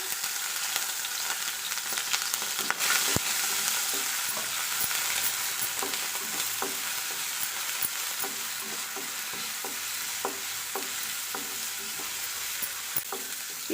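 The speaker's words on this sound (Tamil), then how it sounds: "வெறும் ஜவ்வரிசி முட்டும் சேர்த்து நல்லா இதில் வறுத்து எடுத்துக்கலாம்" Small sago pearls sizzle and crackle in hot ghee as a spoon stirs them, with steady frying hiss and regular scraping taps, no talking.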